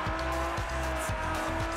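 A Ferrari 458 Spider races in Forza Horizon, its engine droning loudly and continuously with rhythmic surges as gears shift, tires faintly squealing.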